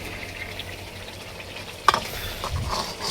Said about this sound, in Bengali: মশলাটা কি কষে নিতেছো?